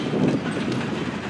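CN freight train cars, including empty coil cars, clatter past on the rails close by. The wheel clicks come in a rapid, uneven rhythm over a dense rumbling roar.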